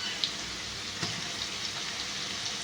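Soft, steady sizzle of potatoes frying in a pan with ginger paste in a home kitchen. The hiss stays gentle and continuous, broken by a few faint pops and ticks, with no talking.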